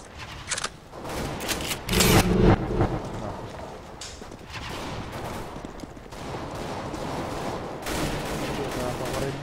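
Shotgun blasts in a Counter-Strike: Global Offensive deathmatch: a few heavy bangs scattered among ongoing gameplay noise, with a voice talking over parts of it.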